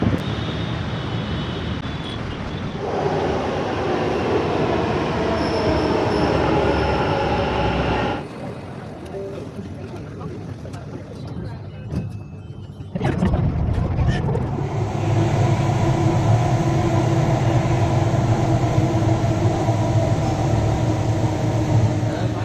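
A Bangalore metro train rumbles and hums at the Indiranagar station platform, its noise dropping away midway, then surging back louder as the train moves again.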